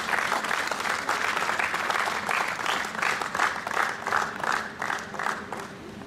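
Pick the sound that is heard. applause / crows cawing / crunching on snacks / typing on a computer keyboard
applause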